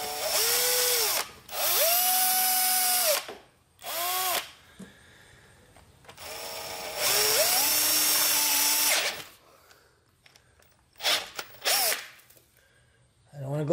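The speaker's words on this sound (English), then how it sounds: "I want to make sure I drill this in straight." A power drill bores a hole in stripped threads for a HeliCoil repair, running in several bursts of one to three seconds with rising and falling motor pitch and short pauses between.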